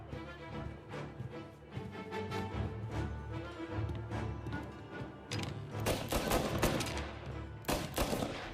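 Gunfire rattles in the video game Mafia Definitive Edition, with rapid bursts and single shots heard over dense in-game sound and heavier volleys near the end, all fairly quiet and with no talking.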